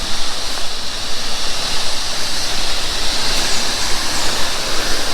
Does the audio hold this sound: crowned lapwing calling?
no